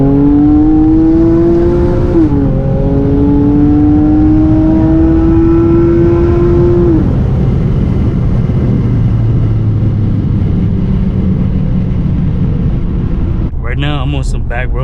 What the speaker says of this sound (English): let me let y'all hear this exhaust.